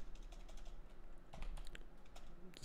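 Quiet typing on a computer keyboard while writing code, irregular key taps in short bursts, soft and close.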